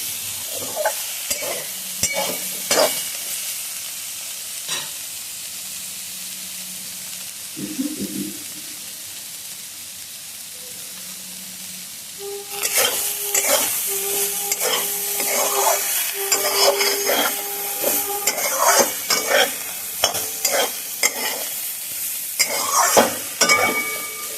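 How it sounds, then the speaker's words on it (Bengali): Bitter gourd and potato pieces frying in a pan, a soft sizzle and scattered scrapes at first, then a louder, busier stretch of stirring and clattering against the pan, with no voices. "উচ্ছে আলুটাকে ভালো করে ভাজা করে নিয়েছি"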